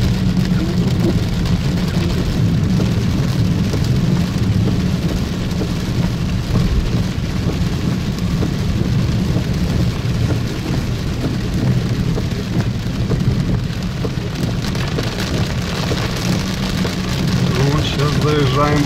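Heavy, steady rain roars continuously inside a vehicle driving through a downpour in Kyiv, with a low engine rumble underneath; no distinct thunderclap stands out.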